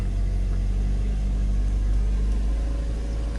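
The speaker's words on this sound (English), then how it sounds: "Car start up just fine." A 2009 Hyundai Elantra runs steadily just after starting up following a battery replacement, a close, even low engine rumble throughout with no voices.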